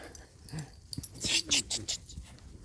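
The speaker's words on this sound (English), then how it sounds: "there's a little doggy coming" A small dog approaches on an outdoor walk, giving soft whimpers and wheezy snuffles, with bursts of rustling and hissy noise from the walk.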